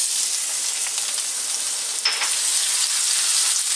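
Garlic and ginger sizzle and fry steadily in hot flavour-infused oil for a fish curry, a loud, dense crackling hiss with light stirring movement and no voices.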